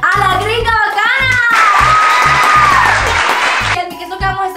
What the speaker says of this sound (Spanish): Recibamos con un fuerte aplauso a la gringa bacana.